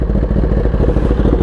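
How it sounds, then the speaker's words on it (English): A sportbike fitted with a Competition Works exhaust revs up close and very loud, a dense throbbing engine roar held steady through the moment. "Let me let you guys hear this thing. The Competition Works exhaust."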